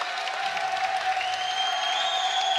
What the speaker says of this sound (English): You guys hear the crowd.